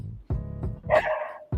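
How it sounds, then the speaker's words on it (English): A dog barks in a short burst: a few sharp woofs close together, one drawn into a higher yelping whine, fairly clear and moderately loud with no talking. "I don't know if you guys can hear the dog barking."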